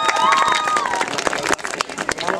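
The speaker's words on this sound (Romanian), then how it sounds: "vă rog să o aplaudați" Applause and a murmuring crowd fill a hall as a prize-winning schoolgirl is called up at a town awards ceremony in Petrila, with dense clapping throughout, a voice over the start, and the clapping thinning out toward the end.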